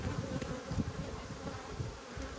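Honey bees buzz around an open hive during an inspection, a dense, steady droning swarm with individual insects flaring louder as they pass close by.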